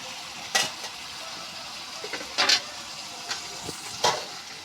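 Curry sizzling in oil in a pan as broth is poured in, with a few sharp bursts of frying hiss and soft stirring clinks over a steady low crackle; the dish is hilsa fish curry with pointed gourd.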